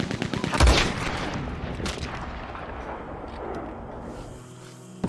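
Rifle gunshots in the video game Red Dead Redemption 2, a loud booming report followed by a long rumbling decay and a few fainter echoing shots.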